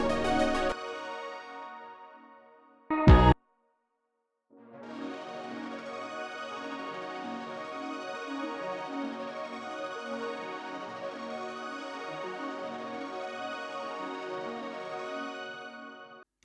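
Juno synth arpeggio sent through an Autochroma plugin shimmer effect, opening with a fading tonal swell and a short burst, then a pause before a dense, shimmering arpeggiated texture that pulses steadily at moderate level to the end.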